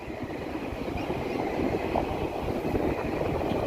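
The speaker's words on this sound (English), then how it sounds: "Got another train." A train rolls by in snowy Toronto, a steady broad rumble with low clattering wheel pulses heard from a nearby bridge, fairly loud and continuous with wind noise.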